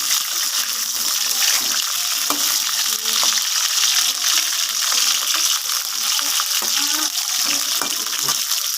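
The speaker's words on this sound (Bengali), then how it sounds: "পটলটা এটা ভেজে নিই।" Pointed gourd (potol) frying in hot oil, a steady close sizzle and crackle with scattered pops and stirring clicks throughout, no voices.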